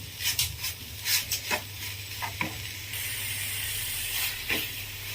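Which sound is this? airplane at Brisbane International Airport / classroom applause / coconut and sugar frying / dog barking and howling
coconut and sugar frying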